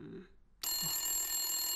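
A bell-type telephone starts ringing abruptly after a brief quiet moment and keeps up a bright, sustained ring at close range, with no talk over it.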